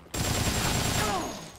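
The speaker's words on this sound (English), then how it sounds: "Machine gun." Machine gun fire in the video game Dead Rising, a dense rapid burst of shots that starts abruptly, stays loud and close for over a second, then tapers slightly.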